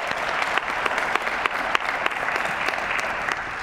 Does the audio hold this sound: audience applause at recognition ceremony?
yes